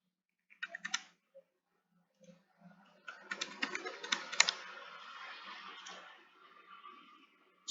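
Typing a username and password on a computer keyboard, a few isolated keystrokes followed by a dense burst of clicking taps that trails off, with no talking.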